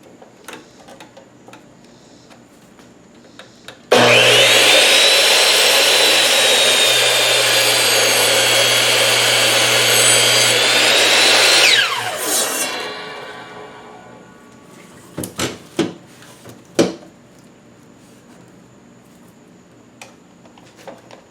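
A lathe tool cuts into spinning cedar on a woodturning project. A loud, hissing cut starts abruptly and lasts about eight seconds before fading, followed by a few sharp ticks and knocks in quiet.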